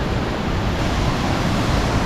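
Ocean waves roll in as a dense, loud, steady wash of surf noise, close and unbroken, with possible wind buffeting the microphone and no voices.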